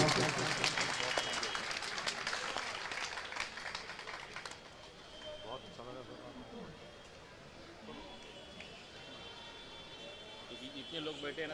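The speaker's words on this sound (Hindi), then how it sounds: "आप लोग तालियों से अपना इस्तकबाल कीजिए" An audience at a mushaira at the Dharavi Festival in Mumbai claps in a crackling burst that fades out after a few seconds, giving way to someone talking over quiet room noise.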